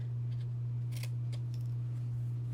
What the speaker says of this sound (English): I'm gonna cut here, and I'm gonna cut also this section.